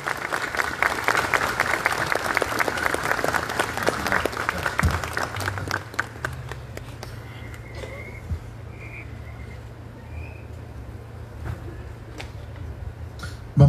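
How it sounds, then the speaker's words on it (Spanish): A congregation at a pilgrimage opening mass in a basilica applauds loudly for several seconds, then the clapping thins into scattered claps and room murmur before a faint thud at the end. "Un aplauso a Jesús y a la Santísima Virgen y a todos los que caminamos hacia ella."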